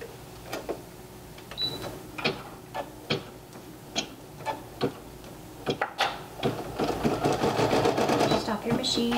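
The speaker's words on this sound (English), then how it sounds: "This is going to stitch the satin stitching around the bowling pin, which will hold your fabric down." Single-needle embroidery machine satin stitching fabric around a bowling-pin applique, giving steady rhythmic ticking needle strokes up close that speed into a dense continuous chatter toward the end.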